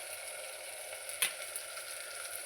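Tomato and onion cook in a pan with a steady, soft sizzle. A single small tick or stir sound comes about midway.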